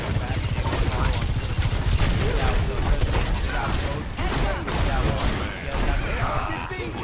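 Rapid gunfire bursts and in-game weapon sounds from an Overwatch 2 collegiate esports match between UCLA and Fresno State, dense and continuous, with caster commentary running over the action.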